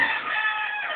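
A chicken crows in one sustained, bright call filling the whole second, fairly loud and close, with no talking.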